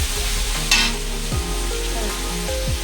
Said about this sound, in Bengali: সবজি ভাজা হচ্ছে।